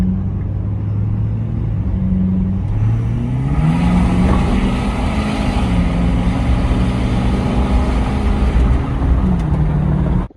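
Ford 6.7 Powerstroke diesel truck engine in a 2011-2016 pickup fitted with new intercooler piping, revving loudly and steadily up and down with a deep rumble and rising turbo whine, close by and continuous throughout.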